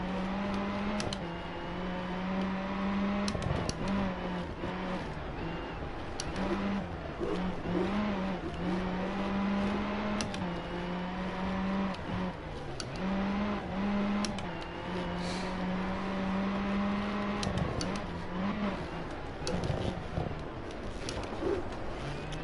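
A rally car in the Sébastien Loeb Rally Evo game races through a Swedish rally stage, its engine droning steadily and revving up and down without a break, with occasional knocks and clunks over the top and no talking.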